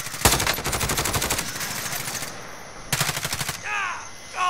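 Rapid automatic gunfire in Call of Duty: Modern Warfare crackles in two loud close bursts, a long rattling volley then a shorter one, followed by a brief cawing sound.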